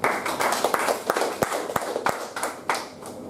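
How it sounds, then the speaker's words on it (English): A small group at a speech club meeting claps for a few seconds, with scattered sharp individual claps standing out over the steady patter of applause. "A big round of applause for that."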